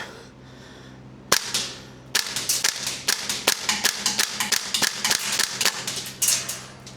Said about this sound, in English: this gun's very snappy, very precise